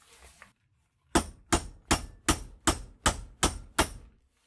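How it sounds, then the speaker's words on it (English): Eight sharp metallic hammer blows ring out in a steady rhythm on a copper armature clamped in a vise, close and loud, following a short quiet pause. "But a lot of times you can do it with a hammer."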